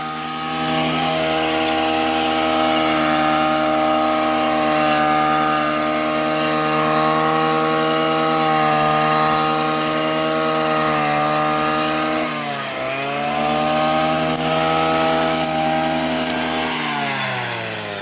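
A grass-cutting machine mowing lawn in Italy, a loud steady motor drone that holds for the whole stretch and briefly dips and recovers near the end, with no talking.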